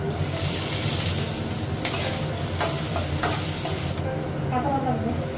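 Dried chilies hit hot oil already seasoned with panch phoron, whole cumin and ginger, giving a loud, steady sizzle and frying hiss with occasional stirring scrapes throughout.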